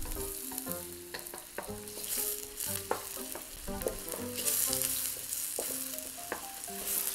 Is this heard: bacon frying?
yes